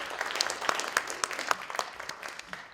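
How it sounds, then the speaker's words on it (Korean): Applause from the audience at an international academic conference marking the 120th anniversary of the Donghak Peasant Revolution, a dense patter of many hands with scattered sharper claps that thins out toward the end. "다시 한번 큰 박수 부탁드리겠습니다"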